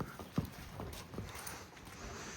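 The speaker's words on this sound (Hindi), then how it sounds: "आगे लो घोड़े को, बस होल्ड करो, यहीं यहीं होल्ड करो।" A Marwari horse being led steps along with a few scattered, soft hoof clops, one sharper strike early on, over steady outdoor background noise.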